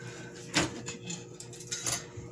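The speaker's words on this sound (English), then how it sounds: "Let me get me a knife to get it out of the pan" A knife scrapes and knocks against a metal pan while loosening a stuck pistachio pecan cake, giving a few short clanks and scrapes close by with quiet pauses between.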